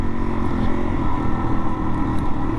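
A 2022 Suzuki DR-Z400S dual-sport motorcycle riding on dirt, its single-cylinder engine droning loudly and steadily close by, with wind rush and faint rumble from rough ground.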